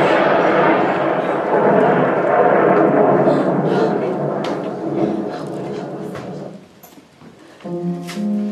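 Heavy thunder rumbles as a stage sound effect in a theatre play, a long loud roll that fades out, followed by a brief musical or vocal tone at the end.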